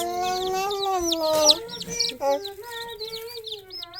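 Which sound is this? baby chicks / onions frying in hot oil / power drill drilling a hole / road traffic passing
baby chicks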